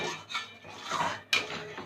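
Spices and cashews stirred continuously in a cooking pan over medium heat for vegetarian matar paneer; steady scraping and rustling of a spoon against the pan, with a sharper metallic scrape near the end.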